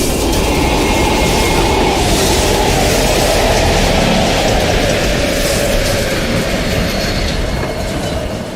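A train rumbles steadily past in an abandoned East German station in Call of Duty Black Ops Cold War, a loud, continuous roar with rail clatter that holds for the whole stretch and eases slightly at the end.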